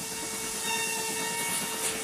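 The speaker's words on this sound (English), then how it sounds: "The train usually stops here." A train carriage heard from inside as it runs along: a steady rumble under a faint hiss and a sustained tonal whine, with no talk.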